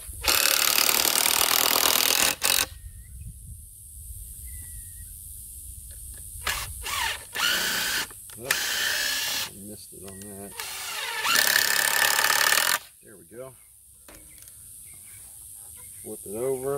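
A power drill drives screws into the wood of a homemade pig feed trough in loud bursts of whirring, separated by pauses with handling noises and brief speech.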